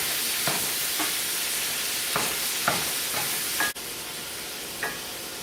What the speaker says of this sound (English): browning up the ground beef.